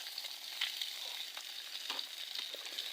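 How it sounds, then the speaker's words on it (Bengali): A free-range country chicken egg scrambles in a pan over a wood stove, giving a steady close crackling sizzle with scattered scraping stirs throughout. "এবার একটা দেশি মুরগির খাঁটি ডিম দিয়ে দিলাম, একটু ঝুরো ঝুরো করে ভেজে নিচ্ছি।"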